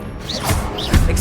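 A Confringo spell blast in Hogwarts Legacy crashes out with loud, close magical whooshes and smashing impacts in quick succession, ending on a heavy thud.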